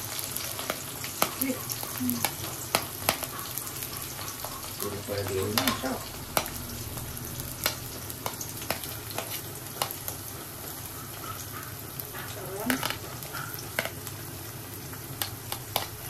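Chicken and vegetables frying in a wok, a continuous close sizzle broken by frequent scraping and clinking stirs, with a little faint speech in the background.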